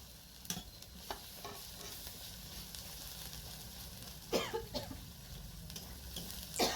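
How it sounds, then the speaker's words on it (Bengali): Ground spices with coriander powder fry in hot oil for a Bengali prawn curry, giving a soft steady sizzle broken by sharp clicks and scrapes of a spatula against the pan. "ধনে গুঁড়ো, সব কিছু তেলের মধ্যে একটু ভালো করে ভেজে নেব"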